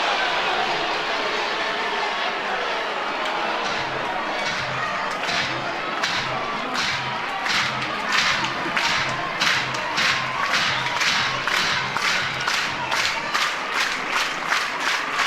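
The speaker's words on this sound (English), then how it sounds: "Crowd into it, looking for a 1-2-3 inning from Deal" Crowd at a college softball game between Oklahoma and Tennessee, a steady loud roar of cheering with rhythmic clapping and stomping building through the stretch, no individual speech.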